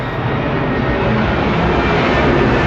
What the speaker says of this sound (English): We're gonna wait for the plane and do that again.